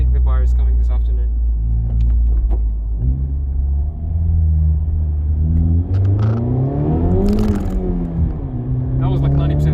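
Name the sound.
Honda Civic Type R FK8 accelerating in first gear, 90% throttle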